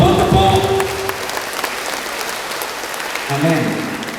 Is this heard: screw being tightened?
no